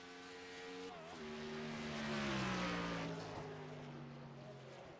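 At Road America, a race car in the LEC NextGen Series finishes a qualifying lap, its engine note rising to a loud pass and sliding downward as it moves away.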